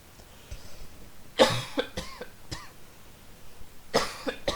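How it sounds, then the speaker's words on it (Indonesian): A burst of close coughs, a quick cluster of three or four, then another pair a couple of seconds later. "Batuk lagi."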